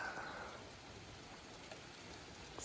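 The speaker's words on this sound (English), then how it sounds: "but it's raining outside." Rain falls outside as a faint, steady, even wash of noise throughout, distant and without a break.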